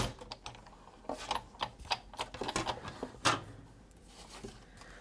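A Big Shot die-cutting machine is cranked with a handle to roll a plate sandwich through it. It gives a quiet series of irregular clicks and ratcheting taps, with short pauses between bursts.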